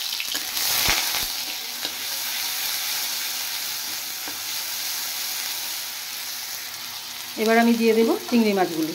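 A spoonful of onion and garlic paste frying in a little oil in a wok, a loud steady sizzle and hiss with a few stirring knocks near the start; close up, with a voice talking near the end.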